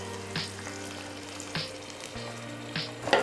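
Brinjal pieces frying in oil in a pan for a Tamil-style brinjal gravy, a steady close sizzle broken by a few brief spatters and clatters of stirring, with no one talking.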